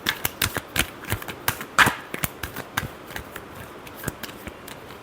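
Tarot cards are shuffled by hand in a quick series of crisp, close riffling snaps and flutters, some louder than others, with no talking.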